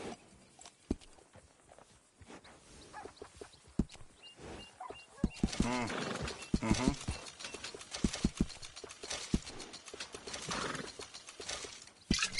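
Horse hooves clip-clop in a steady walking rhythm in Red Dead Redemption 2, joined midway by a loud, wavering whinny, with sparse dialogue and ambient game sounds around them.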